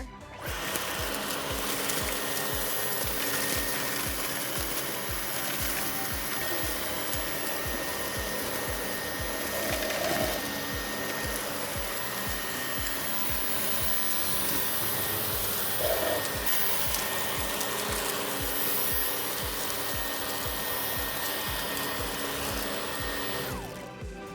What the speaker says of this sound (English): This vacuum really does it all, without the hassle of a cord.